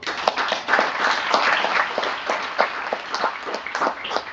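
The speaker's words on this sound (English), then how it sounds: "It deserves a big round of applause" Applause rising at a cyber security awareness meeting: a sustained wash of many hands clapping in a hall, steady and moderately loud throughout, with individual sharper claps standing out near the end.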